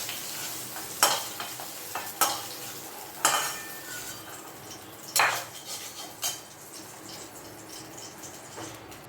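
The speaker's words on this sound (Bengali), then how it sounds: "চিংড়ি মাছ তাই বেশি ভাজতে হয় না, আমি একটু হালকা করে" Prawns lightly frying in a metal pan, stirred with a utensil: sharp scrapes and clinks recur every second or two over a steady soft sizzle, close and fairly quiet, with no voices.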